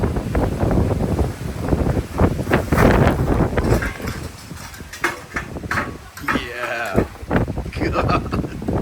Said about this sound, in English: All right, this wind is crazy.